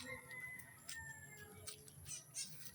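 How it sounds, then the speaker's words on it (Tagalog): A bird calls several times outdoors in a muddy rural spot near a pig pen, with short bright chirps over a steady background hum. "Ay, may ibon din oh."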